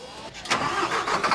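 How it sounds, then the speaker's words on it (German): A modern city bus engine in Johannesburg runs steadily, a broadband rumble with a slight rise midway, heard up close. "Das sind sehr gute Motoren."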